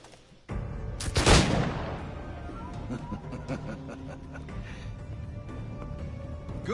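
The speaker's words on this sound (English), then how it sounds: "Gunshots. Splendid." Gunfire in Assassin's Creed IV: Black Flag, a sharp loud shot followed by a busy stretch of scattered battle noise, clatter and muffled blasts continuing under the game's ambience.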